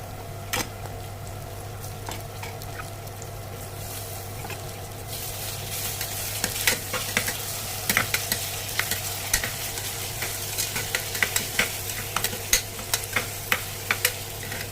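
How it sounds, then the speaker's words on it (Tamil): Tomatoes fry in oil for a mutton curry, a constant sizzle under a low hum, with a spoon stirring and scraping the pan more and more often in the second half. Nobody speaks. "அடுத்து தக்காளி போட்டுருவோம்"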